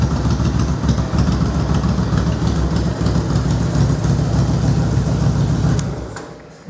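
A Yamaha Bulldog motorcycle engine idles close by with a steady low rumble and even pulsing throb, holding constant for several seconds before easing off near the end.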